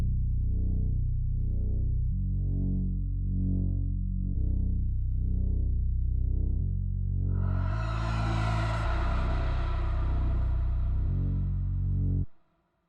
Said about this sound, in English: I'm gonna go ahead and go over to section A here and play it, the sub bass